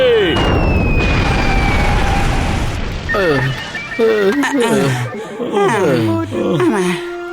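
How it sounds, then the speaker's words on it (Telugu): Cartoon chemical blast from two chemicals mixing in a Motu Patlu episode: a loud, broad burst fills the opening seconds, then animated voices talk excitedly over the fading rumble. "ఆ రెండు కెమికల్స్ కలిసాయంటే చాలా ప్రమాదం. వెంటనే ఏదో ఒకటి చేయండి. పదండి, పారిపోండి, బ్లాస్ట్ అవబోతోంది."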